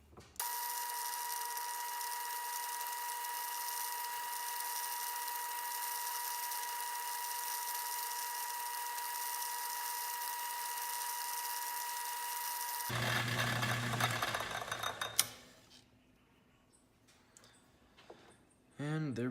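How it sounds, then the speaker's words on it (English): Steady machining whine of a 1/8 inch hole being drilled 7/8 inch deep as a steam passage in a small Hero's jet engine part, holding constant for about thirteen seconds before stopping amid clatter, then near quiet and brief handling sounds. "we will drill that 1/8 inch hole to allow the steam to pass through"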